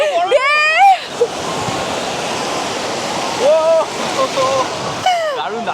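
Sea waves at Digha beach: a steady wash of surf and breaking water, with voices and shouts over the top.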